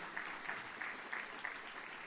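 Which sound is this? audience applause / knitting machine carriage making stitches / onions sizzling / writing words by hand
audience applause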